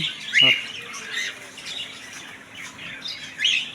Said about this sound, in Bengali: এদিকে আছে ফুল সেটাপের পাখি